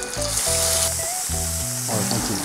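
Hot pan sizzling as cockle cooking water is poured in, a steady bright hiss with a continuous loud fizz throughout, alongside some tonal background music.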